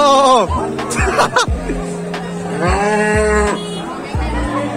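Several cows moo loudly and close by at a cattle market in Benupur, long drawn-out lowing calls overlapping one another, with a busy crowd murmuring in the background.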